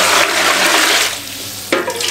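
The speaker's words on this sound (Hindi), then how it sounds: "ये 5 लीटर पानी शामिल कर दिया।" Water pours from a 2-litre jug into a pot for chicken yakhni broth, a loud close gushing that eases off, then surges again in a second splashing pour.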